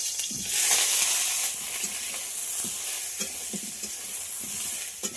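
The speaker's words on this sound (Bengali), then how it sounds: "কড়ার মধ্যে আবার একটু সর্ষের তেল দিয়ে দিলাম। এবার দিয়ে দেব ফুলকপি।" Steamed cauliflower florets fry in mustard oil in a wok, hissing steadily with scraping stirs and small crackles, close and unaccompanied by any voice.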